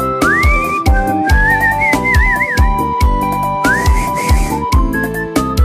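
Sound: person whistling along to a song

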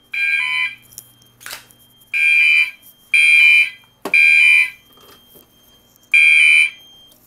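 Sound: fire alarm sounding during Notifier AFP-200 panel test

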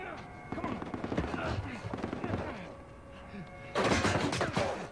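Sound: gunfire in the video game Uncharted 4

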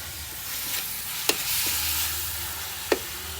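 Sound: stir-frying vegetables in a pan for Thai nam prik ong

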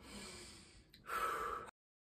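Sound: deep breath

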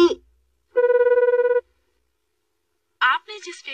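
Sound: telephone ringing, call not answered

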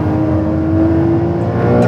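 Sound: Porsche 911 turbo engine accelerating on a race track

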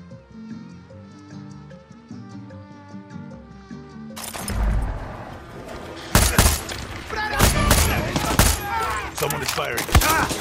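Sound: gunfire in Far Cry 6 video game

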